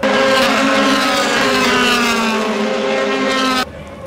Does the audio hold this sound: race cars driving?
yes